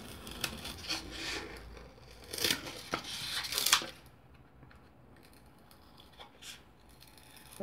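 A blade cuts around a styrofoam jar lid, giving bursts of scraping and crunching up close, loudest in the first half, then faint scratches in near quiet.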